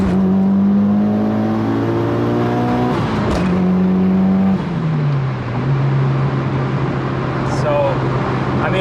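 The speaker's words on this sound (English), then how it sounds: "We'll do a little pull getting on the highway so you guys can hear it and see what it pretty much sounds like." Tuned Mitsubishi Evo V pulling hard in second gear from about 3,000 RPM onto a highway, engine note climbing steadily and loud inside the car, with a shift or rev-limiter break near the middle before it pulls again.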